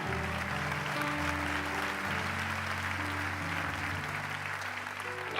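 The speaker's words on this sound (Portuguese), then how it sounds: "Oh, meu Deus, aplauda o Senhor." A church congregation applauds during a Portuguese-language sermon, a steady wash of clapping held under sustained keyboard or organ chords that keep playing throughout.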